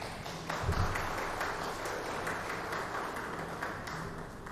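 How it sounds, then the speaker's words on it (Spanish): Welcoming applause from an audience at an electoral lecture session, a continuous crowd of clapping hands that stays fairly even and moderately loud throughout, with a brief low thump early on. "les pido un fuerte aplauso de bienvenida"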